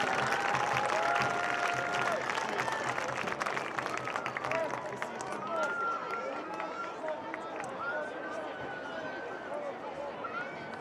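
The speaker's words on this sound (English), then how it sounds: "a round of applause for this year's Sparta football and cheerleading squad with parents" Crowd applause and cheering at a Sparta High School football senior night against Lowell, honoring the football and cheerleading squad with parents; a dense, steady roar of clapping fills the stands with announcer-style voices and whistles mixed in.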